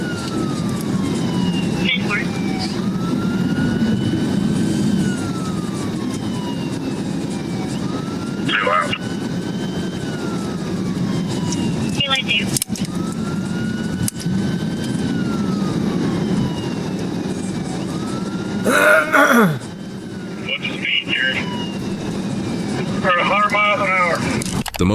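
A Georgia State Patrol police car in a high-speed chase, its siren sweeping up and down in repeated wails over a steady, loud roar of engine and road noise, with a few sharp bursts and clatters along the way.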